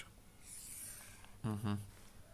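A pen or pencil scratches faintly across grid paper while axes are drawn for a school geometry exercise, giving soft brief strokes in a quiet room, followed by a short burst of nearby voice.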